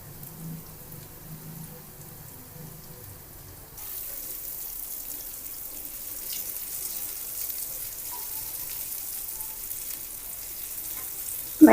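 Elephant foot yam slices frying in oil like fish, a quiet hiss that grows into a steady broad sizzle partway through, continuous and close, ending with a sharp clatter, no talk.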